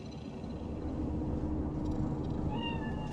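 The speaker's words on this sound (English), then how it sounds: "Do you see it? The cat?" A cat in Cyberpunk 2077 gives a single meow near the end, heard over a steady low city hum.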